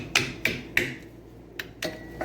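Hammer blows knocking a seized, rust-bound brake pad out of a caliper, five sharp metallic strikes spaced unevenly, close and fairly loud against quiet.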